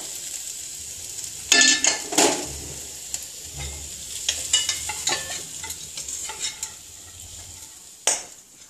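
Potatoes frying in a pan on the stove, with steady sizzling and scraping stirring strokes that bunch up in bursts, plus a few clinks of a utensil against the pan.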